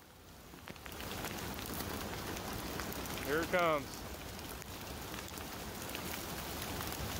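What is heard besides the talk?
rain falling while fishing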